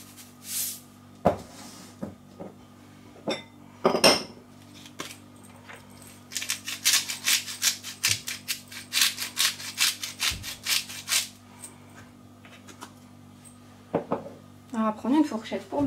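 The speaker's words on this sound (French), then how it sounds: "On va prendre une fourchette pour mélanger, ça peut aider." A fork mixes a conchiglioni pasta filling seasoned with salt and pepper in a bowl, making a run of quick, close scraping strokes after a few scattered clicks and knocks, over a faint steady hum.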